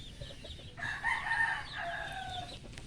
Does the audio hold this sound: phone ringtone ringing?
no